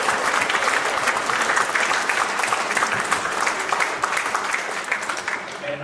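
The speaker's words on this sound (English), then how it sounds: "a huge round of applause please for them" A crowd applauds at a junior squash finals prize-giving, a broad sustained wash of clapping that stays even, then tapers slightly toward the end.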